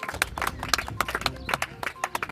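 Scattered hand claps from an audience at a school felicitation ceremony honouring guests with turbans and shawls, a brief irregular patter of sharp claps rather than sustained applause.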